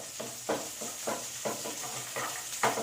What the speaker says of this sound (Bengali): পেঁয়াজগুলো একটু ভালো করে ভেজে নেবো।